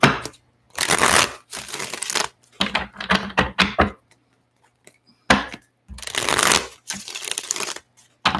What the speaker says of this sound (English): I'm going to shuffle this a little bit more here.